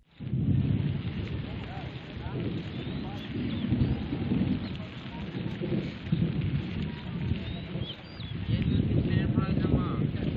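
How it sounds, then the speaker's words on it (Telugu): Unseasonal rain driven by gusty winds in Nizamabad district, Telangana, a loud continuous downpour with rumbling, surging gusts throughout. "ఈదురు గాలులతో కూడిన అకాల వర్షం హడలెత్తించింది"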